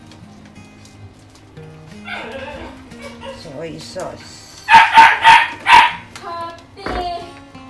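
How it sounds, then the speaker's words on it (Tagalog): A dog barks four times in a quick burst, loud and close, after softer talking; a short yip follows near the end. "Pasensya kayo sa aking aso. Sa aming aso ay maingay."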